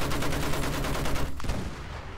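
Rapid bursts of gunfire in Battlefield 1 fill the first second and a half as a steady rattle of shots, then cut off, leaving a duller low rumble.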